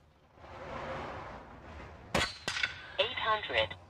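Sharp shots from a Uragan 5.5mm PCP bullpup air rifle with walnut stock, fired outdoors: two crisp cracks followed by a ringing metallic clang from the target, with light breeze and background noise.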